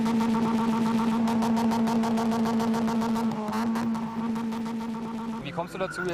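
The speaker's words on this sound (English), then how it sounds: "This loud-running Corsa has an American registration." A loud-running Opel Corsa engine idles close by with a steady, droning hum, then revs briefly near the end.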